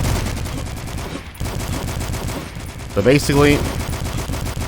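Rapid, loud gunfire in the retro first-person shooter DUSK, in an intense boss fight, rattles continuously up close, while someone talks over it briefly.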